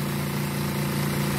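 A TG23 portable washing machine spinning, a steady loud motor hum with a low droning tone and constant vibration, close and unbroken.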